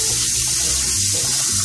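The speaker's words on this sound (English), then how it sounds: "rinse the almonds until the water runs clear" Tap water pouring steadily into a kitchen strainer of almonds being rinsed, a loud, continuous, close-up hiss and splash with no pauses.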